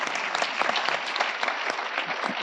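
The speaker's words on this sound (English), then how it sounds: "Let's give her a round of applause." An audience applauds a panelist at a vocational education conference, steady dense clapping sustained throughout, fairly close and even in loudness.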